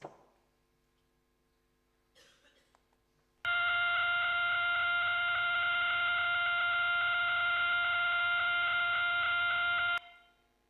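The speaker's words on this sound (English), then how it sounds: "the fastest known pulsar" A steady, buzzy electronic tone from the fastest known pulsar's radio signal, pulses merged into one pitch with rich harmonics, holds for several seconds after faint clicks, then cuts off abruptly.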